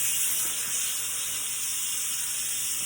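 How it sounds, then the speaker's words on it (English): Instant Pot pressure cooker venting steam during a quick release after cooking mac and cheese, a loud, steady, continuous hiss that holds for the whole stretch without pause. "I'm gonna release the steam"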